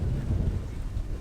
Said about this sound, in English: So we're preparing for the storm.